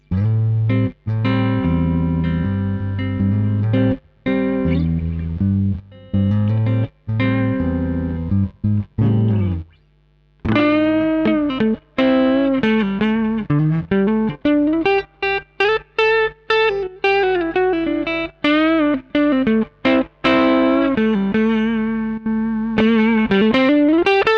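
PRS SE Hollowbody McCarty electric guitar on the neck pickup playing chords and melodic lines with a warm, slightly overdriven tone, starting heavy and then turning cleaner as the volume is rolled back, with a brief pause partway through.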